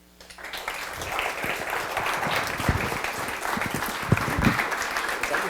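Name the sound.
applause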